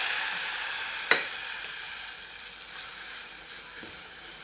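Pabda fish being cooked bhuna-style in a pan, a steady close frying sizzle and hiss with a single sharp clink near the start and faint stirring, no voices.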